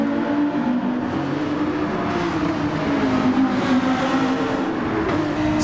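Porsche race cars roar around a track in Gran Turismo 7, a steady engine drone holding pitch with slight shifts as the cars run close together.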